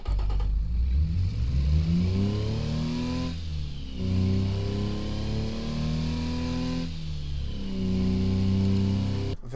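A Japanese police car engine built in the video game Automation and tested in BeamNG, revving up three times in smooth rising sweeps from idle, loud, close and even in tone.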